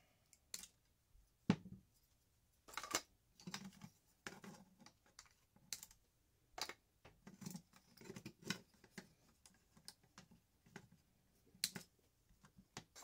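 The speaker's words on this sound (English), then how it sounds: "So I'll go ahead and cut these fans out." Cutting tools snip the fans out of a Dell Force10 power supply, giving quiet, sharp clicks and snaps at irregular intervals with near-silence between them.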